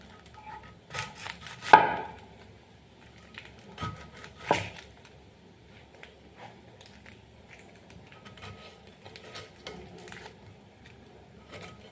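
A knife chops an onion on a board in a home kitchen, giving a few faint, scattered cuts with two louder thuds, close by and quiet, with no speech.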